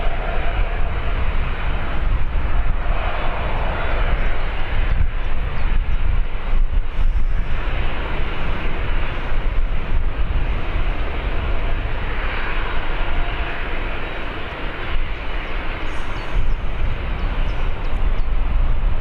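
An airplane lands on a runway at Birmingham airport, a steady, loud, broad roar of engine and rushing air that holds without a break from start to finish, with no talk over it.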